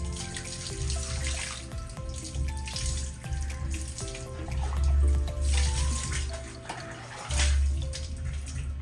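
Water poured over a dog during a bath at home, with a strong tap-like gushing and splashing. The flow swells and eases in waves, and faint drips sound between the heavier pours.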